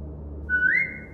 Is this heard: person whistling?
yes